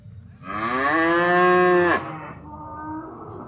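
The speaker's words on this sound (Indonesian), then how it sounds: "Ini yang sebut sapi pedaging yang sudah tidak produksi lagi, tidak bisa beranak" A beef cow no longer able to breed lets out a single loud, close moo lasting over a second, tailing off into a lower, quieter groan.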